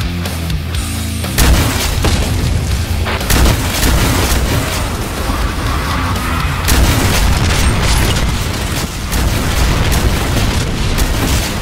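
Rocket explosions in Doom Project Brutality, a steady barrage of loud, deep booms and blasts that overlap with gunfire and layered game audio, nearly continuous throughout with sharp bursts near the start and middle.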